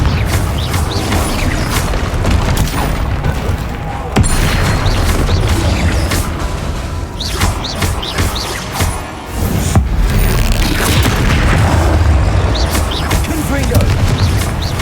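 Repeated Confringo fire spell blasts in Hogwarts Legacy combat form a dense, continuous barrage of booming impacts and crackling bursts with several sharp hits, loud and busy throughout, with talk mixed in.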